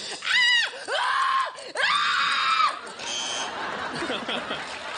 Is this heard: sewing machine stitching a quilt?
no